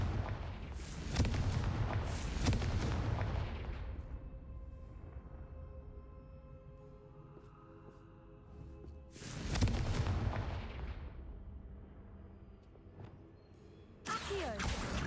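Booming blasts from the Confringo explosion spell in the video game Hogwarts Legacy: two heavy rumbling bursts with long decaying tails, then a third sharp onset near the end, loud and near with a voice in between.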